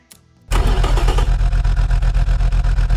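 A Mercedes-Benz M104 2.8L engine in the Automation racing game cranks briefly, fires up loudly and settles into a rhythmic, pulsing idle, alone and close.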